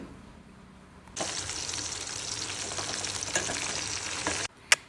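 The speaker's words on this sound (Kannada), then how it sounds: "ಇವಾಗ ಮೆಣಸಿನ್ಕಾಯಿ ಫ್ರೈ ಆಗಿದೆ ನೋಡಿ" Green chillies frying in a pan for a milk pajji dish, a sudden burst of bright, hissing sizzle that holds steadily for about three seconds and then cuts off, followed by a single sharp clink.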